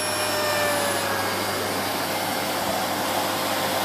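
A Miele S8 C3 Complete cylinder vacuum cleaner runs with a steady, loud whirring roar and a constant motor hum throughout, with no voices over it.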